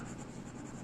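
Brief, close scratch of marker or chalk on a board during a chemistry lesson, a quiet continuous stroke lasting under a second.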